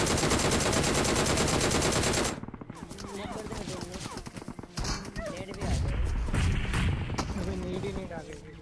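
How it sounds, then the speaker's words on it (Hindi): Gunfire in the BGMI battle royale game, a dense burst of rapid shots that breaks off into scattered pops and in-game effects, with a voice talking throughout. "फायरिंग होती है और डेंजर।"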